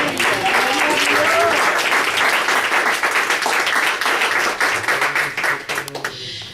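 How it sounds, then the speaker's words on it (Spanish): Loud, dense congregational applause fills a church service in honor of the King of Kings, steady and sustained before thinning out toward the end. "Denle un fuerte aplauso al Rey de Reyes."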